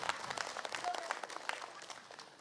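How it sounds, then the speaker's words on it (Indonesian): Studio audience applauding a habib on an Islamic Ramadan talk show, a steady moderate wash of many hands clapping at once that carries on evenly for the whole stretch. "Tepuk tangan dong buat Habib"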